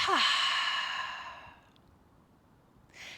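A deep, breathy exhale through the nose during a yoga flow, loud and close at first and then tapering over about a second and a half, followed by quiet with a faint breath near the end.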